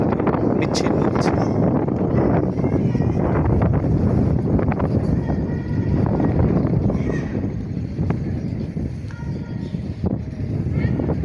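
Strong wind buffets the microphone outdoors at a railway station, a continuous loud rushing and rumbling roar with occasional gusty bursts, while a voice is faintly present beneath it.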